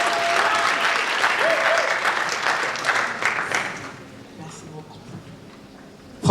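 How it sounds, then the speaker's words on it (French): Audience applause fills a prize-giving ceremony at a mobile film festival in Africa, steady and dense for about four seconds before thinning out, with a voice speaking faintly underneath. "Madame Françoise Elong Gomez, que je vous demande d'applaudir s'il vous plaît."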